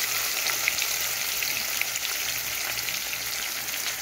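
Cumin and chopped onions fry in a pan for aloo palak, giving a steady, loud, close sizzle with faint stirring crackles throughout and no voices.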